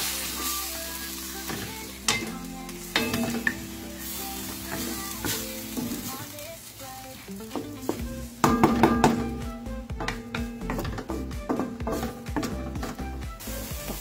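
Fermented mustard greens fry in a pan while being stirred, a constant hiss of sizzling oil broken by scraping and clattering of the spatula that grows busier and louder near the end.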